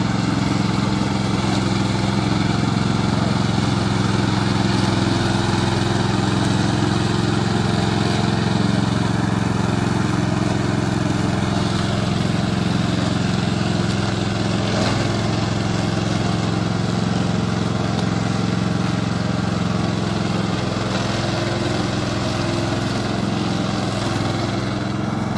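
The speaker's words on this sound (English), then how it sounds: "Today I'm glad to introduce our remote controller mower." A remote-controlled field brush mower runs steadily for the whole stretch, a loud, continuous engine drone with no breaks and no voices.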